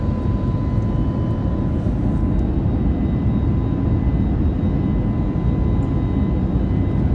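Steady, loud broadband roar of an airplane's engines heard from inside the cabin during an international flight, continuous and even throughout with a faint tonal hum on top and no talking.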